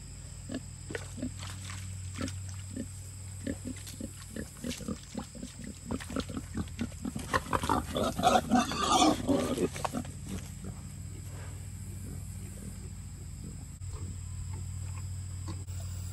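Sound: large pigs grunting while wallowing

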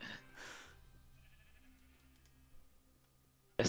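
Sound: sheep bleating in Minecraft video game

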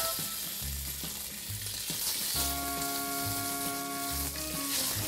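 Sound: pork sausage frying in olive oil in a pot

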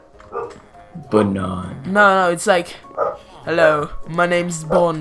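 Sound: dog barking

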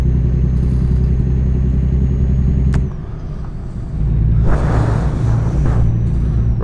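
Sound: truck engine driving in American Truck Simulator video game

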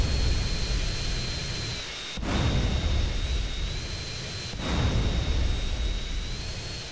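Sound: airplane flying in video game GTA San Andreas

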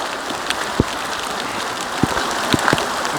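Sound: hail falling

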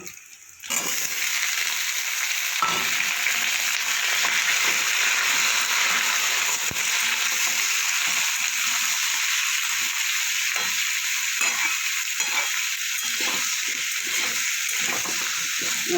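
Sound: bottle gourd added to pan, frying and stirring

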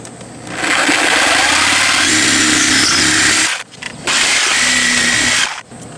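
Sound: Sawzall reciprocating saw cutting through boards and nails

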